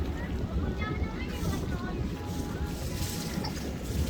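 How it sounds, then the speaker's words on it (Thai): Strong wind sweeps across open water by a riverside pool, whipping the surface into waves; a steady, close, broadband rushing roar with microphone buffeting that never lets up. "ลมแรงมากเลย จนน้ำเป็นคลื่นไปหมดเลยค่ะ"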